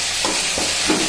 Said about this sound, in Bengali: তো এখন আমি টমেটোটা দিয়ে দেবো।